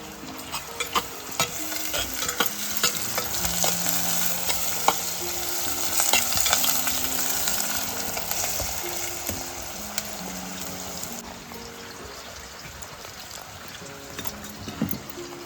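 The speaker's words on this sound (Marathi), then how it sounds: "सगळं चालवून घेऊया आपला झुणका" Kulith flour zunka stirred in a hot pan over a wood-fired stove, a close sizzle with repeated scraping and clinking strokes of the spoon against the pan, irregular and busy, with no voices.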